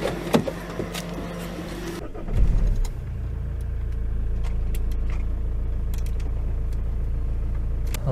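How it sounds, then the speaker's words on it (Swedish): A car pulls away from a garage, its engine note rising briefly then settling into a steady low rumble as it drives off, fairly close and with no talking. "drar vi iväg i bilen."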